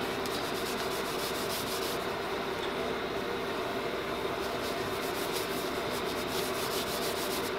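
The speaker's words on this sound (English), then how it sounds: "I'm going to get an old sock and I'm just going to buff that off." An old sock buffs excess wax off a wooden board being made into a leather strop for sharpening woodworking tools, producing a loud, continuous scrubbing rub with steady back-and-forth friction throughout.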